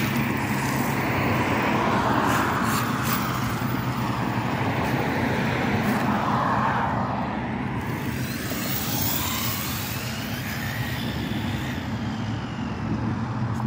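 A Wltoys 124018 10x10 RC car with four-wheel steering, three ESCs and three motors runs on foam tires, giving a loud, steady whirring drive noise that holds almost unbroken throughout and eases slightly toward the end.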